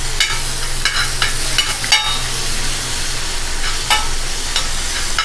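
Ginger garlic paste sizzles in a pan with tomato and onion, a dense steady frying hiss with repeated scraping strokes of a stirring spoon, close and loud.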